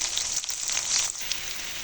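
Onion, green chili, garlic and ginger paste frying in a pan, a close, steady sizzle with brief stirring scrapes and no talking.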